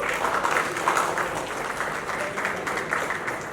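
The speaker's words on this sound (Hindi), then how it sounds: "जोरदार तालियां हो जाए गाइस।" Crowd applause at a film shoot's mahurat event, moderately loud steady clapping from a group with faint murmuring underneath, heard from a short distance.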